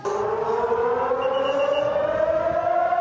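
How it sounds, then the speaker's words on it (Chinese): An air raid siren wails continuously at close range during a civil defence drill, its tone slowly rising in pitch as it builds. "在演习期间，如果听到防空警报的声音"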